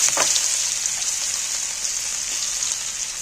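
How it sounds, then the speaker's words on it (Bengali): Chopped onions fry in hot oil with cardamom, cloves and whole cumin, giving a steady, close hiss of sizzling that runs unbroken throughout with no voices. "এইটাকে ভালো করে ভেজে নেব পেঁয়াজটা"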